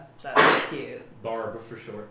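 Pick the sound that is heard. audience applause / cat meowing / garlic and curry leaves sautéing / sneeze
sneeze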